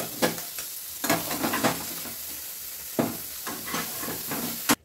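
Oil sizzles in a kadai while prawn curry is cooked, a steady frying hiss broken by short bursts of stirring at irregular intervals, close and fairly quiet, with no talking.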